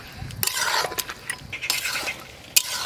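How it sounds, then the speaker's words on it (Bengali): Potatoes and tomatoes being sautéed in a pan, with a utensil scraping and stirring in quick close strokes over a low sizzle, ending in a sharp clink against the metal; no voices. "আলু আর টমেটো দিয়ে আর একটু কষে নেব।"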